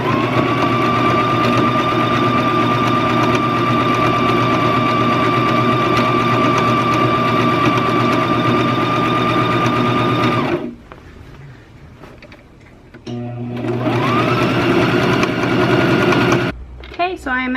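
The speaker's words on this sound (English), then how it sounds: "For this blanket, I'm going to do a number 4 zigzag top stitch." A sewing machine runs a number 4 zigzag top stitch on a baby blanket, whirring steadily and loudly for about ten seconds, pausing briefly, then starting up again for a few more seconds.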